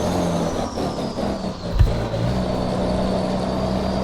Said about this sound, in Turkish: Ufaktan size şöyle bir ara gaz burada arabayı gayet iyi yürütüyoruz arkadaşlar